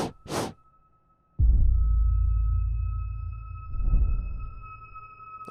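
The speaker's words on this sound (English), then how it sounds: "And that sound is me blowing on the microphone." Breath blown onto a microphone and smeared by heavy reverb, a long low roaring whoosh that swells after a brief opening puff, then fades with a second gust under a steady high tone.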